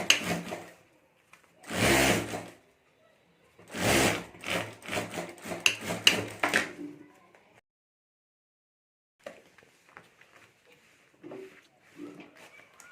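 A sewing machine joins fabric triangles for a potli bag in short bursts: one brief run, then a longer stretch of stitching with stops and starts, and only faint handling noises afterward.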